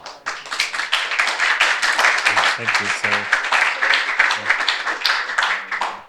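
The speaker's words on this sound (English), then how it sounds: "can I get a round of applause" A meetup audience at a React Native community talk in Kraków claps in sustained applause, loud and close, with a few spoken words over the clapping.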